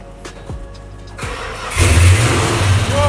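A 1969 Plymouth Chrysler replica's engine cranks with a few starter turns, then catches and roars loudly, settling into a rough, rumbling idle close by.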